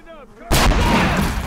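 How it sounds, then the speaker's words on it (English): In a video game set in 1928 Nicaragua, a mortar fires with a single loud, close blast and a rumbling tail, right after brief speech. "I think that mortar's going to come in extremely helpful."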